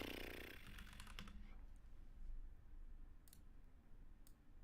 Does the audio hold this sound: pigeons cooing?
no